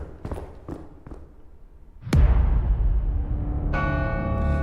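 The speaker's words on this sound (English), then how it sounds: "anyone else hear that ominous bell tolling?" A deep bell tolls ominously in a video game level, one loud resonant strike that rings out with a long humming decay, preceded by a few soft thuds and followed by a sustained tonal chord.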